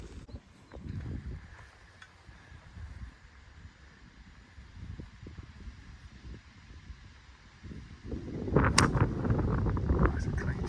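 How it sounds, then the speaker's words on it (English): Wind gusting across an open golf course, buffeting the microphone in low rumbling bursts that grow stronger and louder near the end. "Wind's picking up."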